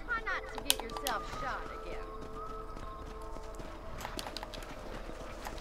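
Horse hooves clip-clop steadily in the Red Dead Redemption western game, mid-distance and continuous under game music and ambient sound, with a talking voice present.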